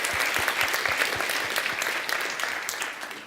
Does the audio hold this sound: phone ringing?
no